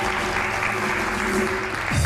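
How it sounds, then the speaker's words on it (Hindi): Studio audience applause on a TV show as homemade dishes are presented, a continuous even patter of clapping with a steady tonal hum running underneath. "तालियां बजाएं भाई, इतनी जल्दी।"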